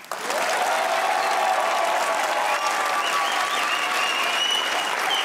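A studio audience at a comedy talk show bursts into loud, sustained clapping that starts abruptly and holds steady, dense and close, with faint voices mixed underneath.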